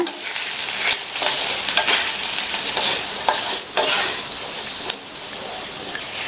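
A potato dish with chili powder and salt is mixed in a hot pan, giving a bright, steady sizzle punctuated by frequent scraping strokes and a few knocks of the spoon, close and unaccompanied by speech.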